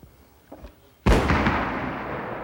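A car bomb hidden inside a cardboard box goes off in a single sudden, loud blast that rumbles and slowly decays, preceded by a brief faint knock and a softer thump.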